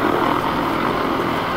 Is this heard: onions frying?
no